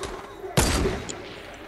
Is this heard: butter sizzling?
no